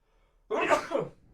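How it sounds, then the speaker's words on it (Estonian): A single close, loud sneeze from a man bursts out after a near-silent moment, then quickly trails off. "Esimest korda aevastasin."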